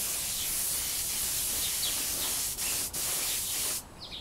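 Silver spray paint hisses steadily from an aerosol onto a Benelli motorcycle fairing, close and continuous, with two brief breaks between passes before the spray stops.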